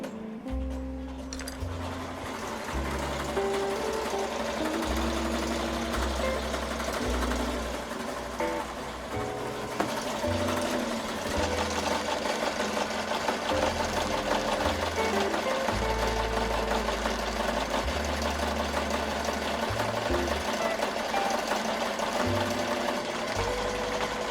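An embroidery machine stitches laces over thick sequins on a hoodie, a steady rapid mechanical chatter with rhythmic thumping pulses that continue without pause.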